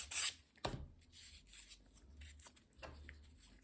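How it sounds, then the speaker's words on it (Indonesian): Sandpaper rubbed over glued wood on a rubber-powered model airplane to even it out, a few short raspy strokes with gaps, close and fairly quiet. "amplas supaya merata"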